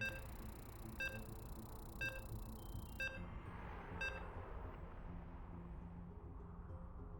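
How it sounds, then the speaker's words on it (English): A series of five short electronic StarCraft 2 game-loading beeps at about one-second intervals over a low background hum, then the beeps stop and the hum continues. "As you can hear, the beeps are loading into that third game"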